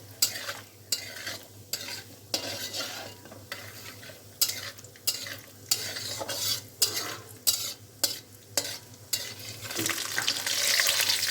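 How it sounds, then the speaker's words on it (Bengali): Cashews fry in hot ghee, a close sizzle broken by regular rhythmic scraping stirs every second or so, the hiss swelling louder at the end, with no talk. "কাজুটা ভালো করে ভেজে নেব।"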